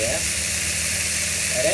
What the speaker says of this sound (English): saute the vegetable